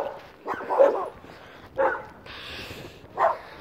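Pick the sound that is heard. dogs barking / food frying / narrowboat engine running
dogs barking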